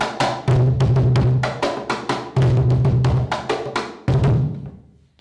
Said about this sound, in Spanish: El primero es el cajón y suena así.